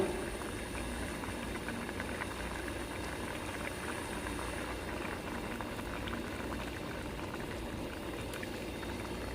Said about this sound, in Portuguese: Como está fervendo, a gente baixa um pouco a temperatura.